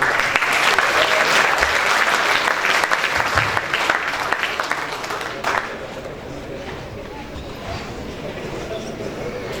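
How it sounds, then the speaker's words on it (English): A student audience at a Toastmasters event on a campus stage gives a round of applause, dense and loud at first, then thinning into scattered claps with faint crowd murmur behind. "you have a round of applause for them?"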